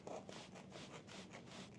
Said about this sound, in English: I'm going to cut the bag